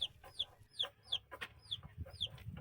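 Chicks peep in a quick series of high chirps with soft clucking underneath, close by and fairly quiet.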